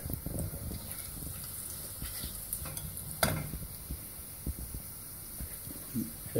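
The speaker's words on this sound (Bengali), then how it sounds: "একটু নাড়াচাড়া করবো এবং বাদাম, কিসমিস এবং এই এলাচি, তেজপাতা, ডাল, দারুচিনি এগুলোকে সামান্য বেজে নিচ্ছি" Nuts, raisins, cardamom, bay leaf and cinnamon stirred and lightly fried in a pan, with a steady soft sizzle and scraping stirring strokes, one sharper clatter midway, no talking.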